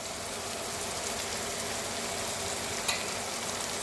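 Turmeric and chili powder sizzling in hot oil for a rui fish curry with green banana, a steady dense crackle throughout with one brief sharper pop near the end.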